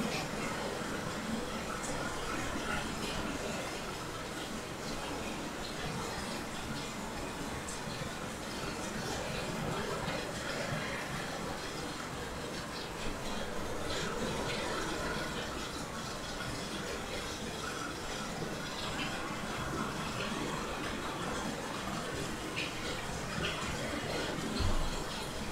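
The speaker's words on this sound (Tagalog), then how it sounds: "Grabe, ang lakas talaga ng ulan." A dense, steady hiss of heavy rain fills the whole stretch, broad and unbroken, with faint background murmurs underneath.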